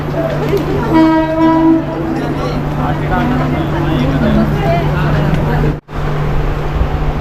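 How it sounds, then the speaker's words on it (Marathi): A Mandovi Express passenger train rumbles and hums as it pulls out of Dadar station, a short horn sounding early on, with people talking in the crowded carriage. "दादरवरून सुटली ट्रेन आता"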